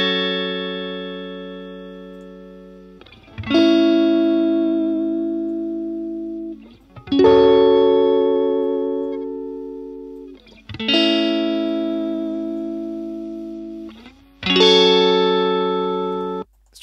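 Four sustained electric guitar chords strummed one after another through an amp plugin, each ringing out and slowly decaying through an amplified, slightly driven tone.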